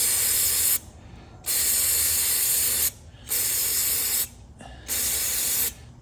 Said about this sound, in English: I want to blast some choke spray right here on the